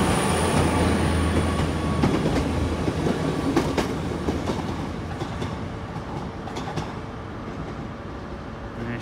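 An HST passenger train pulls out of Exeter St Davids station, its loud rumble and rolling wheel clatter filling the scene, with a few metallic squeals and clicks as the noise slowly eases and fades away.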